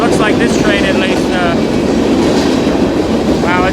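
A long freight train rumbles past close by with constant loud roar, clatter and squealing wheels throughout; a voice is faintly audible under the noise.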